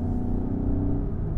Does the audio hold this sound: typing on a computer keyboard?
no